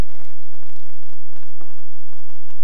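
Sliced fresh lotus root sautéing with pork in a hot pan gives a steady, loud sizzle with scattered crackles and pops, uninterrupted throughout.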